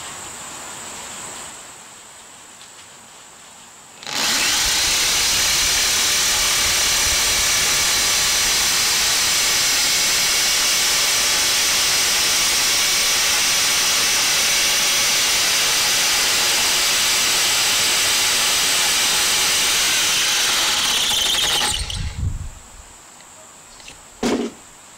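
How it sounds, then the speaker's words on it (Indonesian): A Doliz BA670 electric impact drill drills into concrete, loud and continuous for about eighteen seconds with a harsh, hissing grind, then stops abruptly. A quieter hum comes before and after. "yang paling penting itu kita ngetes ngebor beton."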